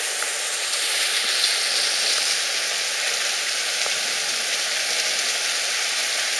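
Dense, steady hiss of heavy hail pounding surfaces during a violent thunderstorm in the Var, France, loud and continuous without a break, with no voices.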